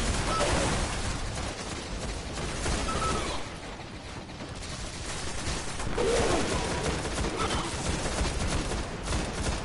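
Rapid gunfire from weapons in the video game Destiny, during a Prison of Elders fight, plays as a dense, loud, continuous barrage with mechanical clatter that dips briefly midway and then builds again.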